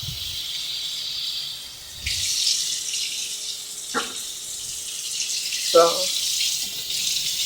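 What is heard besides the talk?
tap water running into pot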